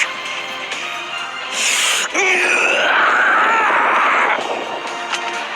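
A game character in My Hero One's Justice 2 lets out a loud, drawn-out wavering scream after a short burst of noise. The cry holds for about two seconds before fading under the game's sounds.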